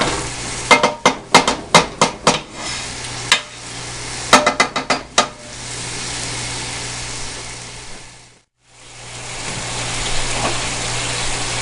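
Breakfast sausage sizzling in a pan while a utensil scrapes and breaks it into chunks, with bursts of sharp clattering taps followed by a steady close frying hiss.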